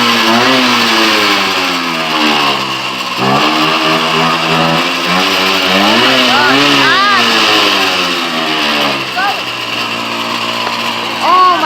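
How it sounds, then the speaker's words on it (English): Small mini motorcycle engine revving loudly and close, with repeated rising and falling throttle blips and a continuous buzzy drone. "It's a mini motorcycle."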